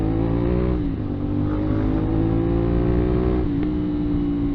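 Engine of a Honda 450 SR/SS motorcycle while riding, a steady loud drone that rises and falls slightly in pitch as the throttle changes, with no talking.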